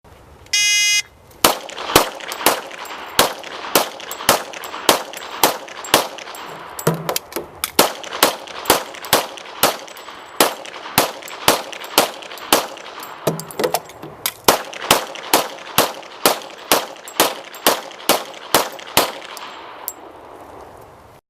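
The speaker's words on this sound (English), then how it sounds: "Now our demonstrator, Jim, will be firing 10-round magazines on our 3 targets." Rapid gunfire as a shooter empties three 10-round magazines at three targets, about thirty loud sharp shots in quick bursts separated by brief pauses for magazine changes, with no talking.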